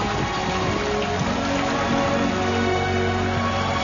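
Heavy rain falls at the 2006 Ironman triathlon in Hawaii as a loud, dense, unbroken wash of hiss and patter with a low rumble underneath.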